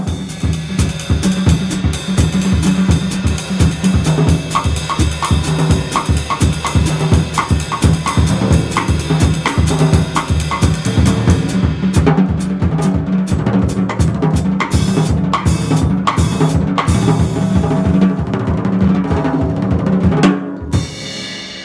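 A drum set plays busy Latin and African percussion rhythms for about twenty seconds, loud and close, with dense repeated hits and cymbal wash and a sudden stop near the end.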